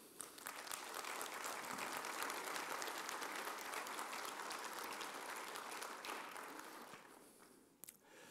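Sustained audience applause at the opening of the EENA 2022 emergency services conference, a dense, even wash of clapping that swells and then fades out near the end, with no voices.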